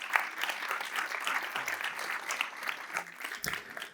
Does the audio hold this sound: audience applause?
yes